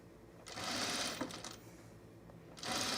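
A sewing machine stitches a seam on a Piper Boho Tunic in two quick bursts, a longer run followed by a pause and then a second short run, faint and close, with no talk.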